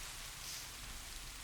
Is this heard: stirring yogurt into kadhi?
no